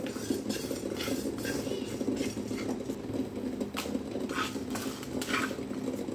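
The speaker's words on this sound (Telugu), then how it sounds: "ఇలా డ్రై రోస్ట్ చేసుకోవాలండి." Dry masala spices are stirred and scraped in a hot pan during dry roasting, giving a steady, close rustling and scratching texture with light metallic clinks throughout.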